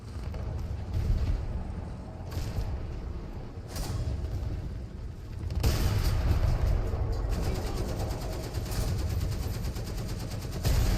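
Gunfire in the War Thunder tank game: dense, rumbling bursts and booms that swell and ease, louder in the second half, with no talk.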